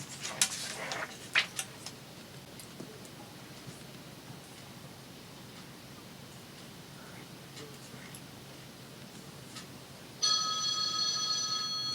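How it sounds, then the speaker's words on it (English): A phone rings near the end with a bright electronic ringtone, after a stretch of quiet room hiss broken by a few soft taps. "Can't believe my phone is actually ringing."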